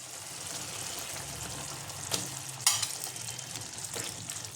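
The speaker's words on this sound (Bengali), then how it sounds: "এবার আমি বেগুন ভাজাগুলো দিয়ে দেবো" Pieces of fried eggplant go into a simmering curry gravy in a home kitchen, giving a soft continuous bubbling sizzle with a few brief clatters and splashes as they drop in.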